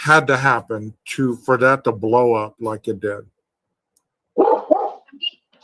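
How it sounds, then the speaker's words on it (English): A big dog gives a short, loud bark or two in a room, coming just after a stretch of male conversation has stopped. "That's a big dog."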